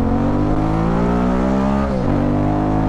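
A QJ Motor SRT 600 motorcycle engine, model year 2024, runs loud and steady while riding, its strong harmonic drone holding through the whole clip with a brief dip and recovery near the end as the revs shift.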